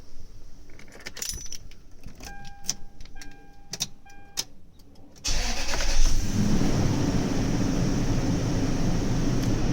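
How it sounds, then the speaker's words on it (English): Keys jangle and clink in the ignition of a Toyota Sequoia, then the engine cranks and catches, settling into a steady idle. "then it says to start the engine."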